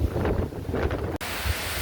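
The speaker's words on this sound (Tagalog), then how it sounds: "Grabe yung hangin bro." Strong typhoon wind roars and buffets against the microphone in heavy, rumbling gusts near the sea, with a brief cut midway before the blustering continues.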